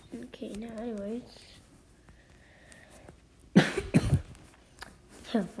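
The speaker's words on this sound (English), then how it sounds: "First of all, let's cough again." A couple of sharp, close coughs in a row after a stretch of quieter background sounds, with a person speaking nearby during a Minecraft play session.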